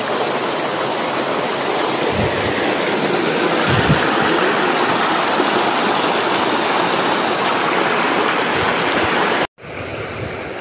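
A mountain stream rushes through a ravine in steady, loud broadband flow that holds almost unbroken, with a brief cut near the end before the water resumes.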